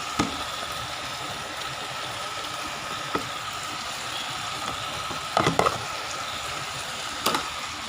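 Black sambal is stirred steadily as it fries, a continuous soft sizzle with a few scraping knocks of the utensil against the pan now and then, close by and with no talking.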